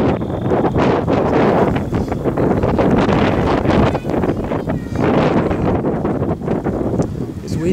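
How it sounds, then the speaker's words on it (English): Strong wind buffets the microphone at Hearst Castle, California, in a loud, continuous rumbling roar that swells and gusts throughout. "It's windy today."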